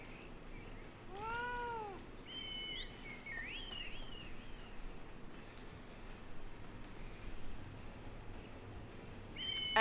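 The fat cat mount in Final Fantasy XIV gives a single clear meow, followed by short chirping game sounds over a soft steady background hum.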